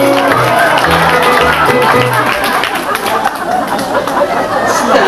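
Big, warm audience cheer and applause for Carol Channing at a City of Hope event, a dense wash of crowd noise and chatter that holds steady and fairly loud throughout.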